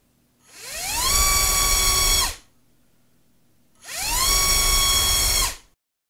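Flycolor MT2204 2300kV brushless drone motor driving a 5045 propeller, heard in two loud whining bursts of about two seconds each, pitch sweeping up then holding steady before cutting off, separated by a quiet gap.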